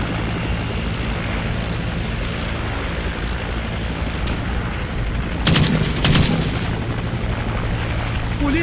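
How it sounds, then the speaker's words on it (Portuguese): Dense, continuous gunfire and booming roar in Call of Duty fill the whole stretch, with a couple of sharper bursts midway; loud and unrelenting, no talking. "Meu Deus, que tiro."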